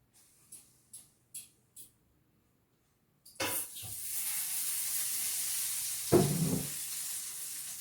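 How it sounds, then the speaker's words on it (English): A steak hits a hot grill after a few sharp clicks of the burner igniting, then a loud, continuous sizzle and hiss with a brief burst of louder spitting near the end. "It's just going to be grilled, or yeah, on the griller."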